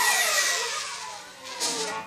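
A clean electric guitar pick scrape without distortion, a thin scratchy swoosh sliding down the strings that fades quickly, followed by a second short, quieter scrape.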